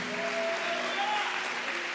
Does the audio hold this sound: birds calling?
no